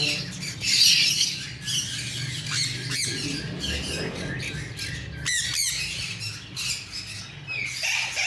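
A breeder pair of sun conures lets out repeated harsh, piercing squawks in short bursts, loud and close, with someone talking faintly in the background.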